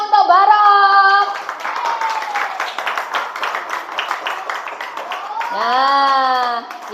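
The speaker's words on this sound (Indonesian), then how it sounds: "Tepuk tangan untuk Barok." Children at an elementary school Ramadan program clap together for a classmate, a close burst of brisk hand claps lasting a few seconds, framed by young voices chanting or calling out before and after.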